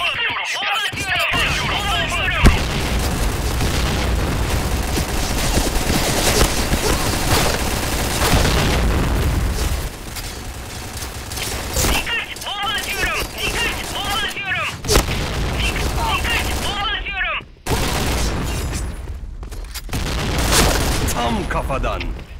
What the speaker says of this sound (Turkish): Dikkat, bomba atıyorum.